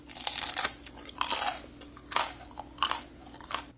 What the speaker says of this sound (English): It is super crunchy though, and pretty delicious